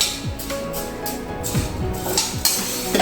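Polished urad dal roasting in a pan over a low flame, stirred with a utensil that scrapes and clinks against the metal in an irregular, close rhythm, with no talking.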